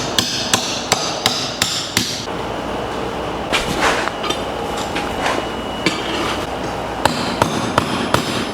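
Hammer blows setting steel rivets on an anvil during blacksmith joinery work, sharp metallic strikes in quick bursts, about six early, a scattered middle stretch, then another rapid run, loud and close with no talk.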